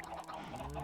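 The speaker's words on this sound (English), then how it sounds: "God, there are so many chickens." Chickens in the Minecraft video game cluck and honk in a brief, soft, continuous burst of low, throaty bird calls with no talking over them.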